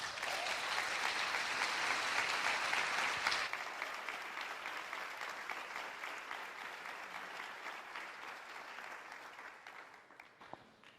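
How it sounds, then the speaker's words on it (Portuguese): Sustained applause from a congregation during a morning church service, loud and steady for about three seconds, then easing into softer, thinning clapping that fades out near the end. "Aplauda o Senhor."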